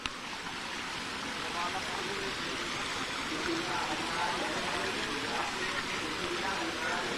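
Treated water pours out into a stream, a steady broadband rush of flowing water that holds constant throughout, nearby and moderately loud, with no clear speech over it.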